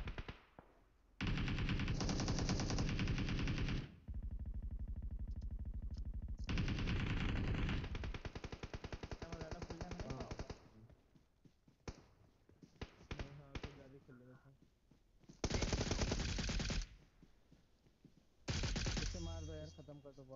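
Long bursts of machine-gun fire in the mobile shooter BGMI, several sustained rapid volleys separated by pauses, with players talking during the quieter stretches.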